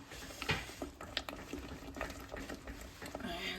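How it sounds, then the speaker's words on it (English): Rice Krispies being stirred quickly into a hot, sticky mixture in a pot for a gluten-free Krispie roll: repeated crunchy scraping and sticky squelching strokes in an uneven rhythm, close and fairly quiet, with no talk. "we'll move over and stir in the Rice Krispies. This doesn't take long, don't stop stirring"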